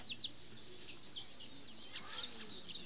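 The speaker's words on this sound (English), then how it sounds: "There is a weaver bird colony in a tree close to the chief's hut" A weaver bird colony in a tree beside a village hut gives off a steady mix of high chirps and twittering calls, many overlapping birds at a moderate distance with no talk.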